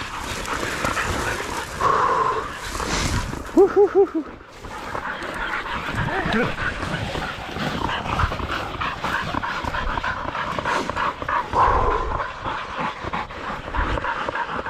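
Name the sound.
pig hunting dogs barking and whimpering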